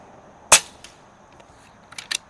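An Air Venturi Avenger air rifle fires a pellet outdoors with one sharp, loud crack, followed about a second and a half later by faint, brief taps.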